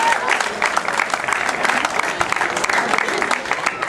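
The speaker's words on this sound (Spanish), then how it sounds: "Démosle un fuerte aplauso, que nos están acompañando ellos también esta mañana." An audience at a morning awards ceremony gives guests from an Episcopal Anglican church a round of applause. Steady, fairly loud clapping continues throughout, with a faint crowd murmur underneath.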